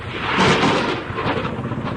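Thunder rolls during a storm at sea, a deep, loud rumbling that peaks early and then keeps churning with a dense, noisy roar for the whole stretch.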